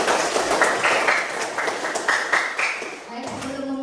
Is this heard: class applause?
yes